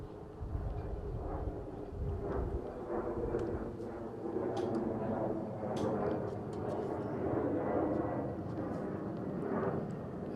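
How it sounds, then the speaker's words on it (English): A propeller airplane passes overhead during an outdoor high school boys' tennis match, a steady low drone that swells and lingers through the whole stretch with faint court noises and distant voices in the background. "Hear the plane flying over."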